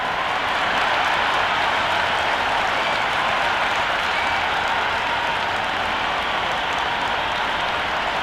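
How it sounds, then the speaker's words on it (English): A stadium crowd in the Cricket 26 video game, at an India vs Pakistan T20 match on PlayStation 5, keeps up a dense, unbroken roar of cheering and applause at a steady loud level. "already the crowd is up and about"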